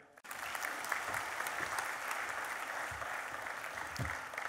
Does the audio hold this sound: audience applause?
yes